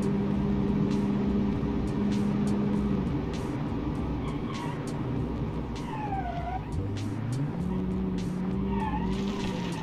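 A 1980s fleet car in a racing game drones along with a steady engine note that rises and falls through gear changes, while its tires squeal and slide in thin, wavering chirps over the top.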